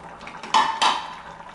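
Green beans dropped into a cooking pot, two quick close clattering thumps of beans hitting the metal, then quiet.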